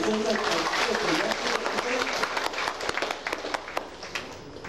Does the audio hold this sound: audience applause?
yes